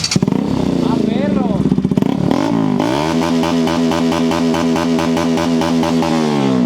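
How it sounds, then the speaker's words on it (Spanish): A Bajaj Pulsar RS200 motorcycle revved up close and loud: rising and falling throttle blips, then a sustained high rev with a rapid pulsing exhaust note. "Nos van a regalar una prueba de sonido de la... Una Pulsar RS200."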